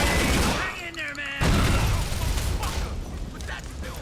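Rapid heavy blasts from an automatic assault shotgun in Grand Theft Auto IV, loud and close, booming shots in quick succession with gunfire echoing and game action noise around them.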